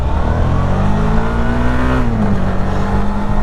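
A 2017–2018 Suzuki V-Strom 650 XT motorcycle pulls hard under acceleration, its engine note loud and close. The tone rises steadily, then drops briefly, suggesting a gear change, before climbing again. Heavy wind roar sits underneath.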